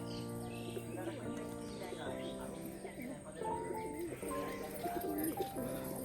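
Pigeons coo softly at a village home loft, a low murmur that runs steadily beneath a busy, tonal background for the whole stretch.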